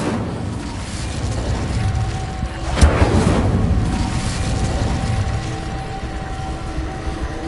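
Incendio fire spell cast in Hogwarts Legacy: a sharp burst lands near the middle, followed by a roaring, crackling whoosh of flame that fades slowly over a steady background rumble.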